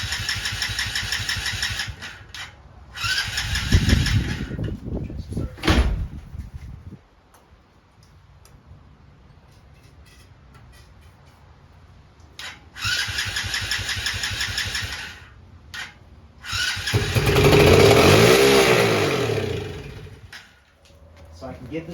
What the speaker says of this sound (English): So I can get this thing to fire but not stay on.